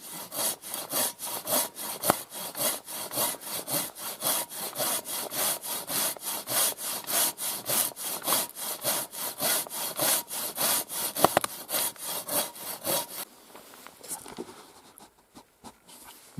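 Rapid, steady saw strokes cut through wood for a new chopping block, loud and close, with a brief slower patch of cracking and rubbing near the end.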